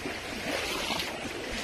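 A shallow stream rushes over sand and rocks in a steady, broadband wash that stays close and even throughout, with no voices.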